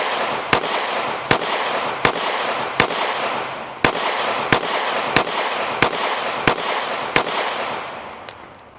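S&W CSX Micro 9 pistol fired repeatedly outdoors, about a dozen sharp loud cracks at a steady, brisk pace, each with a short ringing decay, no talk.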